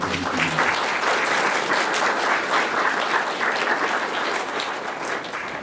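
Members at a historical society annual meeting in St. Augustine, Florida give a round of applause, a strong, dense stretch of clapping that holds steady for several seconds and fades slightly at the end.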